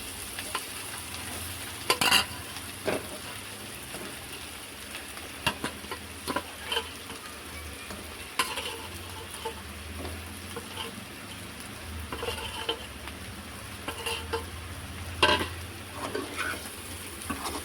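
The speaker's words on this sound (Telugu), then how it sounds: "ఇప్పుడు కొంచెం సిమ్లో పెట్టేసుకొని ఫిష్ పీసెస్ మనం ఇందులో వేసుకోవాలి." Fish pieces frying with softened onions and chilli powder in a pan on low heat, Telangana style, making a steady close sizzle with scattered stirring clicks and scrapes.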